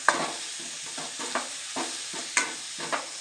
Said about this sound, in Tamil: நல்லா மூடி வச்சு அடுப்பை சிம்மில் வச்சுக்கிட்டு வதக்கி வச்சுக்கலாம்